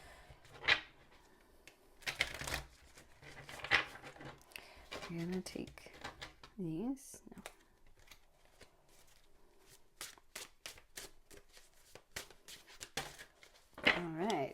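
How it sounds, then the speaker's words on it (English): Tarot cards being shuffled by hand, quiet repeated riffling and flicking bursts close to the microphone, with soft speech woven among them. "I'm just going to shuffle."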